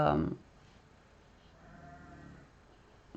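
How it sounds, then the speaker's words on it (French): A faint, distant sheep bleat drifts in under a quiet background, after a brief bit of close talking at the start. "vous entendez les moutons"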